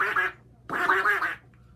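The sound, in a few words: girl imitating a duck with a duck call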